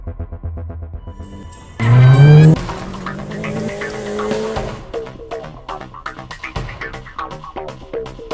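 Car escape in the Christmas theme of the horror video game Granny, with a loud engine start and revving, a screech, and then clunky game effects and thumps.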